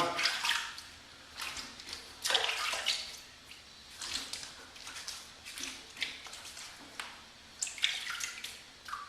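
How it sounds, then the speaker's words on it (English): Tap water runs and splashes as a Merkur Progress adjustable safety razor is rinsed off, a close, uneven gush with intermittent swishing and dripping and no talking. "Okay, so we'll rinse off, set the razor down."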